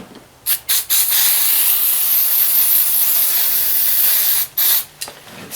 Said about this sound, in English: Let's give her some brake cleaner here quickly